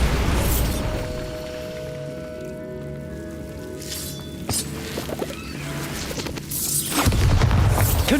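A Bombarda spell explodes in Hogwarts Legacy with a heavy boom, followed by crumbling debris and sparkling chimes, then another deep blast near the end.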